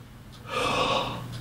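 A single deep inhaled breath, drawn quickly through an open throat as part of a clarinet breathing lesson, rushes in audibly close to the microphone and lasts about a second.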